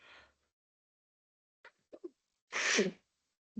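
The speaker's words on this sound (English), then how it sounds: "oh, I'm gonna sneeze" One loud, close human sneeze bursts out near the end, preceded by a few small breaths and mouth noises against otherwise quiet room tone.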